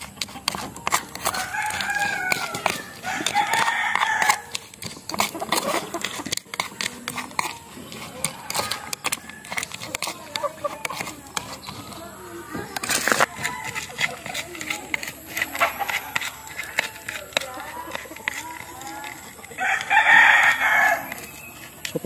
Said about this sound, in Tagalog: dito yun napupunta mga kabakyard sa aking mga alagang manok